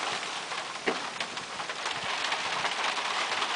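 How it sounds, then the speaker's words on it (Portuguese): Dense, steady patter of hailstones striking surfaces, loud and continuous with a few sharper impacts, no voices, in Sertãozinho, São Paulo. "Parece que está caindo granizo."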